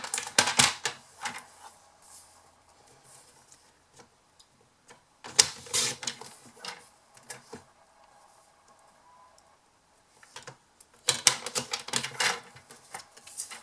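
A paper trimmer cuts down a piece of card in three short bursts of sharp, close clicking and scraping, with quiet pauses in between.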